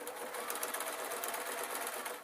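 A basic sewing machine stitches an art quilt in one steady, close, continuous run with no pauses.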